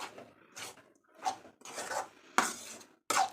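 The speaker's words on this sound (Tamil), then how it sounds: "சேர்த்துட்டு நல்லா கிளறிக்கலாம்." Drumstick leaf stir-fry with grated coconut being stirred in a pan: a series of separate scraping, clattering strokes of a utensil against the pan, close and fairly loud, with short pauses between them and no talking.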